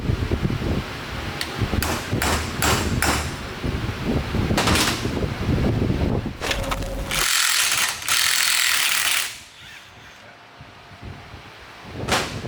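A ratchet rapidly clicks in repeated bursts while a reverse-thread pulley main nut is worked loose, with clanks and a stretch of loud mechanical whirring before it quiets down.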